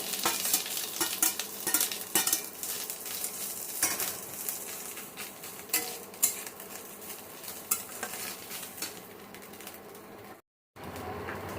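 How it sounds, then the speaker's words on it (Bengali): Grated coconut frying in a pan for watermelon-rind shukto, with a steady close sizzle broken by repeated scraping stirs. A brief silent gap comes near the end. "এই নারকেলটা একটু গ্রেট করা নারকেলটা একটু ভেজে নেব"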